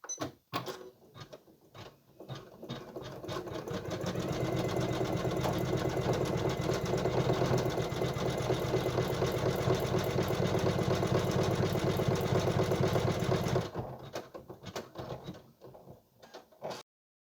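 An electronic embroidery machine stitches the black finishing section of a custom bodysuit, starting with a few short bursts, then running in a fast, steady rhythmic chatter for about ten seconds before stopping with a few final taps.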